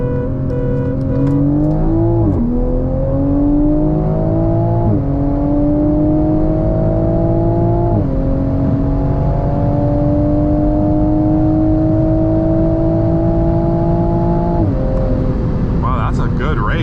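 An FBO-tuned Hyundai Elantra N racing a 2022 Toyota Supra 3.0, a loud sustained engine drone rising through several gear changes with brief dips between shifts, heard from inside the car.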